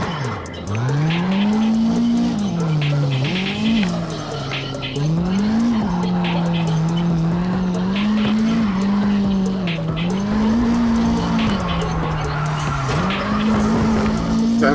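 Loud, continuous tire squeal and revving engine from a car drifting in the CarX Drift Racing video game, with a wavering engine pitch rising and falling as the car slides through turns for the whole stretch.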